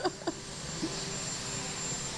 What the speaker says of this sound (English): I hear the roar of the engines.